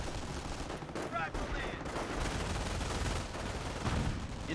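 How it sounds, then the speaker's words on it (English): Artillery barrage in the PC strategy game Company of Heroes, with a dense, continuous rumble of blasts and rapid gunfire-like crackle filling the whole stretch, loud and close. "We're gonna start artillery striking the computer over here. Everyone get into cover! Artillery strike!"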